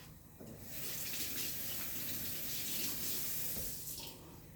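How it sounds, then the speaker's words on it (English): A kitchen tap runs steadily as hands are washed at the sink, a continuous close stream of water with slight splashing changes and no voices. "Wash my hands real quick."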